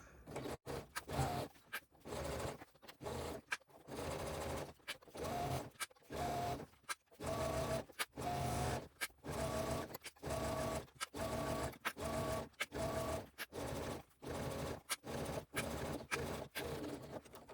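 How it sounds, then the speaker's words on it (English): A sewing machine stitches across the end of a fabric bag strap, giving a quiet, fast mechanical chatter in short rhythmic runs with brief stops between them. "Raise the presser foot, turn, sew across the end."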